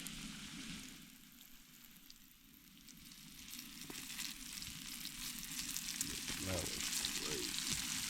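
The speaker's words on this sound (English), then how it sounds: "We come and we drop it in our oil here." Fish coated in sriracha, starch, seasoned flour and sriracha fries in oil outdoors by the San Joaquin River, giving a soft, steady sizzle with faint bubbling that grows slightly louder toward the end.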